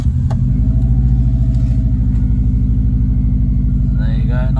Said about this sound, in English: There you go, nice cold engine.